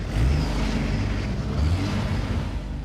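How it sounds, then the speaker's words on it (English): A car engine in the Arizona desert roars at full throttle with the accelerator floored, a loud, sustained low rumble that holds steady for about three seconds. "You could hear the engine just make the noise of when somebody has pushed the accelerator to the floor."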